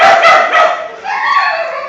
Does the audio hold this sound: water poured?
no